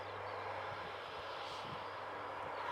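Ryanair airliner departing from Newcastle Airport, a steady broadband jet-engine roar heard from a distance, even and sustained throughout.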